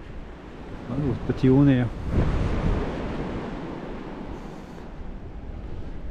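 Sea waves breaking on the shore in wind, a continuous roaring surf with gusty buffeting, briefly under a short spoken phrase near the start.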